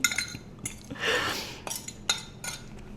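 A utensil clinks and scrapes against a dish while a single-serve dessert mixture with melted butter is stirred, a few sharp taps and a brief swishing scrape, close and alone.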